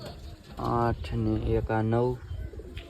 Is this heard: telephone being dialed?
no